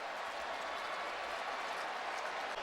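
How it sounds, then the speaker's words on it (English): Steady, loud stadium crowd roar at a Jets at Packers NFL football game, a continuous wash of cheering and noise with no break across the clip. "Because of the crowd noise, it was hard to hear the whistle."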